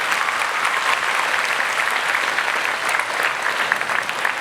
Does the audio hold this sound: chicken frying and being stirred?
no